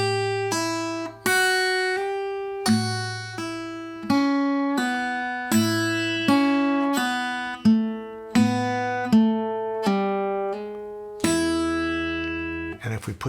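Guitar plays a double time pentatonic turnaround with thumb pinches, bass notes struck together with higher strings in a bright, ringing picked phrase of about a dozen plucked attacks, alone without talk.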